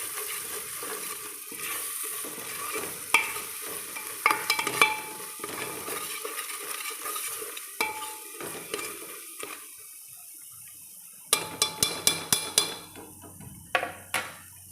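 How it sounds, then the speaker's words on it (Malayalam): Masala spice powder being sautéed in a pan: a soft, steady sizzle with scraping and stirring, sharp clinks of a utensil against the pan scattered throughout, louder bursts of clatter near the end, no talking. "മസാലപ്പൊടി ഇത്ര ഇട്ട് വഴറ്റുക."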